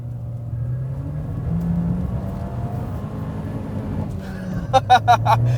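Engine of a 2019 Fiat 124 Abarth drones steadily through a slow hairpin, a low rumble holding close, with a few quick sharp bursts near the end that could be tyre chirps or gear noise.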